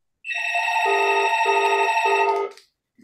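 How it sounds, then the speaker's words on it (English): A landline telephone rings loudly and steadily for about two seconds as a single continuous electronic ring with a pulsing rhythm, then cuts off into quiet. "this phone never stops ringing"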